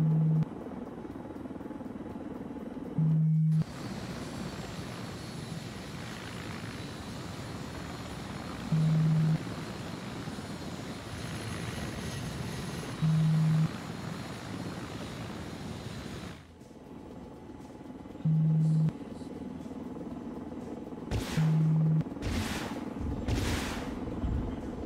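An Mi-24 helicopter in the video game Arma 3 drones with a steady, loud rotor and engine rumble that persists for the whole stretch, briefly cutting out and returning, with short beeps near the end.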